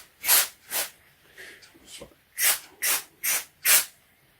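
Silicone oil lubricant sprayed onto airsoft gun parts during an upgrade of an Army Armament L85/R85A1, heard as seven short, close, sharp aerosol hisses in an uneven rhythm, two first, then a pause, then a quicker run of four.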